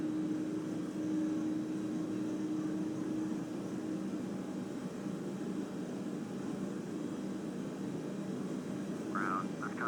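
An Airbus A330 in the FSX flight simulator taxiing, heard as a steady low engine whine and broadband roar at constant level, with a faint brief chirp near the end.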